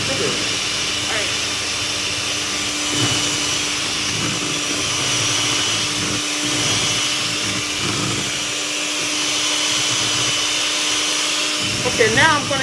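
Electric mixer whipping a mixture with confectioners' sugar in a kitchen: steady whirring motor hum with a hissing whir running throughout, while a person talks over it.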